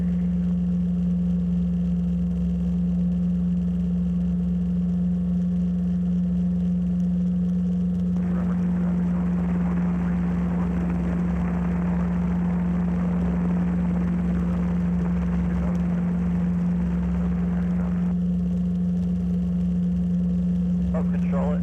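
A helicopter engine runs during a flying lesson, giving a steady, droning hum with a strong low tone and broad rushing noise that swells louder through the middle stretch before easing back.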